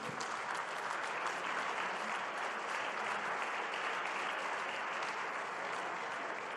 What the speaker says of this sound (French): je pense que vous pouvez les applaudir si vous avez été satisfait de ces Jeux Olympiques